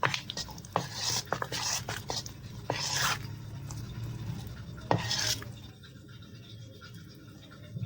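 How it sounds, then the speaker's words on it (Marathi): Wet scraping and stirring of gram-flour batter in a bowl, with a few sharp clinks of a spoon against the rim, then quieter mixing toward the end. "हे सगळं मिक्स करून घेते"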